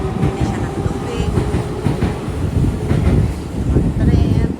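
A train rolling through Tokorosawa Station in Japan, a loud low rumble with clattering wheels and wind noise, close by, with some voices faintly mixed in.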